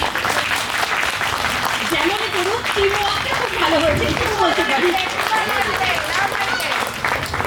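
Audience applause for the performers of a Bengali stage play, a steady wash of clapping that runs the whole time beneath someone speaking.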